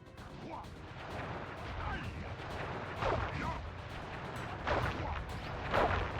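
Fireworks attack in the Sly Cooper video game: a rumbling series of explosive bursts and crackling blasts, with sharper booms recurring at irregular intervals.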